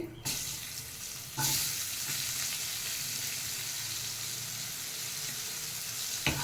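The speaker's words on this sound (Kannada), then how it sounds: "ಈರುಳ್ಳಿ ಹಾಕಿ ಸ್ವಲ್ಪ ಹೊತ್ತು ಫ್ರೈ ಮಾಡಿ" Onions fry in oil in a pan for an egg masala, a continuous close sizzle and hiss with bursts of stirring, no talking.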